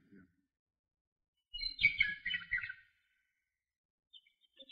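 A short burst of chirping birdsong, bright and fairly close, used as a radio drama sound effect, rises out of near silence, sings for about a second, then stops, followed by a few faint chirps.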